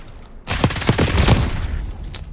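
Video game gunfire erupts in a short rapid burst of several loud shots over about a second, followed by a fading tail.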